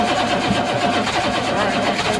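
A 1983 Chevrolet Squarebody's 6.2 diesel V8, unused for years, cranks and begins to fire, a loud continuous rough clatter throughout with voices faintly underneath.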